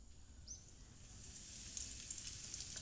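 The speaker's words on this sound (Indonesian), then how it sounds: "Goreng di minyak yang udah panas, goreng di api sedang agak kecil." Frozen dim sum fries in hot oil over a medium-low flame, a faint sizzle that starts quiet and builds into a steady hiss with scattered small pops.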